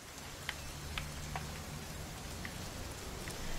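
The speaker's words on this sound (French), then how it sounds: "mais attendez, il pleut." Steady rain falls in What Remains of Edith Finch, a soft continuous hiss with scattered faint drip ticks over a low hum, quiet and unbroken with no speech.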